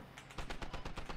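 Rapid automatic gunfire in the Squad military shooter video game, about a dozen evenly spaced shots in a quick burst, fairly faint and without talk.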